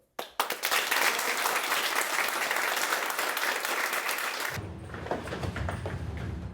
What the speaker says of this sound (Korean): 큰 박수로 마무리하자.